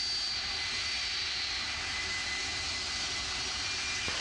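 A fixed-wing airplane on runway 23 left at Manchester Airport gives a steady, loud broadband jet engine roar with a whining tone, continuous and unbroken throughout.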